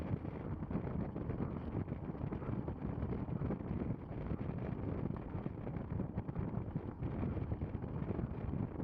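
Strong headwind buffets the microphone during a fixed gear criterium bicycle race, a steady loud roaring rush that fills the whole clip with no voices.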